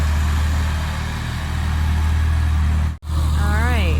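A tractor engine runs close by in a vegetable garden, a loud, steady low idle rumble that drops out for a moment and then carries on, with someone talking over it.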